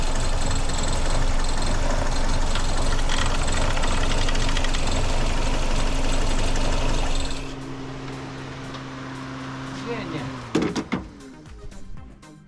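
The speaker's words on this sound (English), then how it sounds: "Got the engine started." A restored VW Golf Mk1 Clipper Rabbit engine runs with a rough, loud idle for several seconds, then drops off, followed by faint clicks and handling noises.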